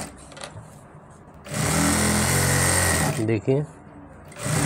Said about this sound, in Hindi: यहाँ पे एक किनारे की सिलाई लगा देंगे